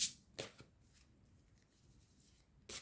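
Tarot cards are shuffled for a reading, with quick crisp riffling bursts at the start and end and softer card rustling in between, close and quiet with no talking.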